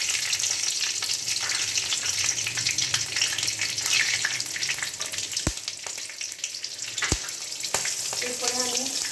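Green chillies and five-spice seeds fry in hot oil with a loud, steady sizzle, broken by a few sharp pops and crackles up close.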